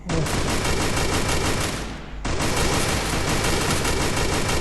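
Loud, dense automatic gunfire from the video game Free Fire rattles almost nonstop in a 4v4 match, with only a brief dip in the barrage partway through.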